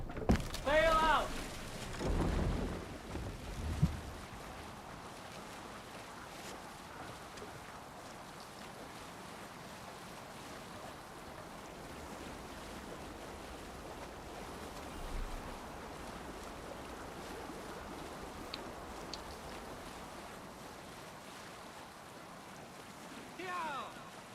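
A sailing ship glides across the open sea in the video game Assassin's Creed Valhalla, with a steady, fairly quiet wash of water and wind and a few brief louder splashes near the start.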